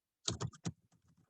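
Keys clatter on a computer keyboard in a quick run of several taps, loud at first and then fading into softer, sparser presses, alone with no talking.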